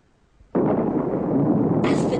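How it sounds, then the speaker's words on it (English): A bomb blast sound effect for bombs dropped on Japan: a sudden loud burst after a quiet moment, then a sustained rumbling roar with a hissing, crackling edge near the end. "dropped a couple of bombs on Japan in the process"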